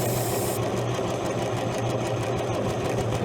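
An old Allis Chalmers crawler that sat unused for years turns over on its starter, a fast steady mechanical whirring and chugging, loud and close and continuing without pause.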